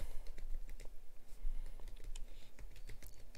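Computer keyboard typing as code is entered, a quick irregular patter of close key clicks throughout, alone without speech.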